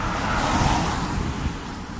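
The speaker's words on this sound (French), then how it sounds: "Une voiture de merde." A car passing by on a road on a December evening, loud broadband roadway rush that swells briefly and then fades a little, heard close with no talking.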